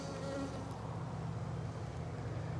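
Honey bees buzzing on a hive frame during a winter hive inspection in a cold climate, a faint, steady low hum that continues unbroken throughout.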